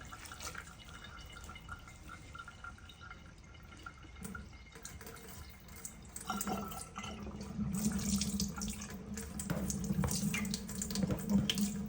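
Spring water from a tap rinsing sea moss in a bowl, a close, steady splashing stream that grows fuller and louder partway through as the bowl fills, with no voices.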